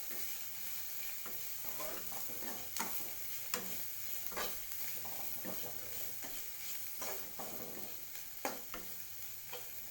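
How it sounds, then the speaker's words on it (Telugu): Dry prawns sizzle and fry steadily in a pan over a medium-low flame, with occasional scrapes and stirs of a spatula cutting through the continuous crackle, close up and with no voices. "ఇప్పుడు మీడియం టు లో ఫ్లేమ్లో బాగా ఫ్రై చేయాలి"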